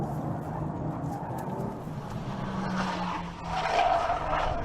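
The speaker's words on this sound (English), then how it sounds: "Yeah, I just drifted the Type R." A 2018 Honda Civic Type R drifts through a turn, its engine droning while the tires scrub and let out a brief squeal near the end.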